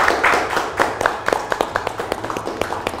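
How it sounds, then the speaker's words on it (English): A small group in a boardroom giving a round of applause for an intern team, a brief spell of close, uneven clapping that thins into scattered claps before fading. "you deserve a round of applause"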